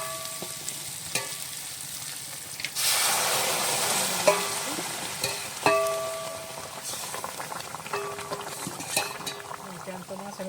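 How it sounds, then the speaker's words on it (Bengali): Hot water poured into a sizzling pan of tilapia and potato curry, a sudden rush of hissing and bubbling that swells over the steady frying, followed by stirring and occasional clinks of a utensil on the pan, with a voice talking intermittently. "পাশে হাঁড়ি থেকে আমি গরম জল দিয়ে দেবো।"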